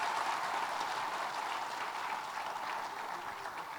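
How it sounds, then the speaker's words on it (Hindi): An audience claps at an education awards ceremony in India, a fairly soft, continuous spread of applause that holds steady and eases slightly toward the end. "तालियों से बता दीजिए कि हम ठीक दिशा में जा रहे हैं।"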